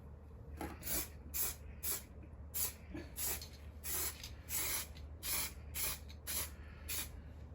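An aerosol spray can applies a light coat of paint to a Jeep Patriot car in about a dozen short, sharp hissing bursts at a steady rhythm, close up, over a low background hum.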